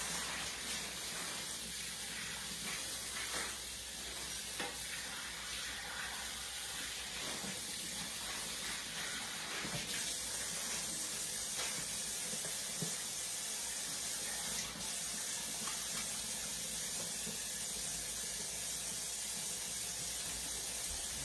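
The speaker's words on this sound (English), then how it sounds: "let me wash up my hands" A kitchen tap runs steadily while hands are washed under it during cooking of eggs in a basket and meatballs, a continuous close hiss of flowing water with no talking.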